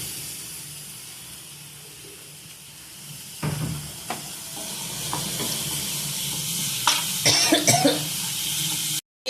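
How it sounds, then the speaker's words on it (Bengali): Ginger, garlic and green chilli paste frying in a pan for a prawn malai curry, a soft continuous sizzle with scattered sharp crackles and spatula scrapes growing busier toward the end. "আদা রসুন বাটা যতক্ষণ না কাঁচা গন্ধটা যাবে আমি ততক্ষণ এটাকে ভাজবো"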